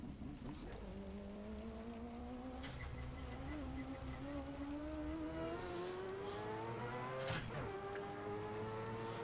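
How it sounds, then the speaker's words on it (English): A squealing suspension in a racing video game: a thin, sustained whine that rises in pitch over a steady car engine drone, with a brief louder burst near the end, heard up close without talk. "that squealing of the suspension sound definitely gets annoying after a little while"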